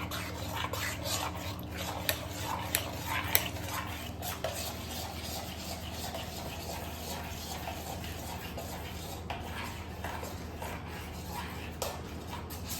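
A spoon stirs jamun pulp mixed with cold water in a bowl, giving a steady close swishing with scattered sharp clicks and taps against the bowl, alone and without talk.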